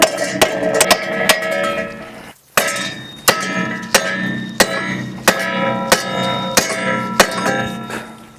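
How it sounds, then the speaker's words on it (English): A hammer strikes the rear wheel bearing hub of a 2017+ Toyota Prius, giving about a dozen sharp metallic taps close by at a steady pace, with a brief pause early on. "So we take the hammer"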